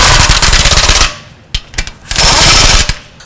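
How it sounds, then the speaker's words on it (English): An impact wrench snugs up wheel lug nuts on a 2006-11 Honda Civic in loud, rattling bursts, with a short pause and a few clicks before the next hammering run. "I'm going to go ahead and snug up these lug nuts."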